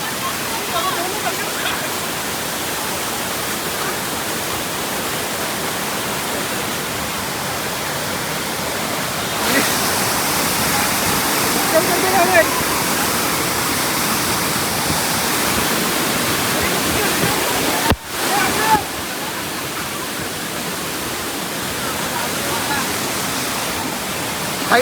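A heavy waterfall at Malshej Ghat in full flow during a red alert, roaring loud and steady throughout with a brief dip near the end. Voices are faintly mixed into the rush.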